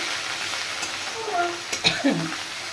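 Dry masala spices fried and stirred in a pan for a kabuli chana and paneer curry, giving a soft, steady sizzle with light scraping and a brief murmur of voice partway through.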